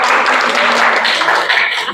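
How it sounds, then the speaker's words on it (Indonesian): A school class applauds together, giving a dense, steady wash of clapping from many hands at close range for a couple of seconds. "Bagian orientasi, tepuk tangan untuk Muhammad Rizal dan"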